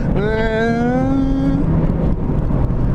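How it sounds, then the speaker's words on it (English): Buzzy four-cylinder engine of a 1999 Mazda Miata NB under way, a steady harmonic drone that rises in pitch through the first second and a half, then gives way to broadband road and wind rumble, loud and close throughout. "The engine is so like buzzy."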